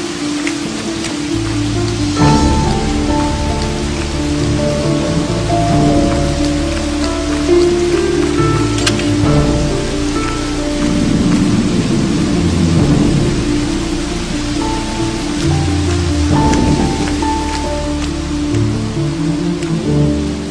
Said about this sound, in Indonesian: Hujan tambah deras.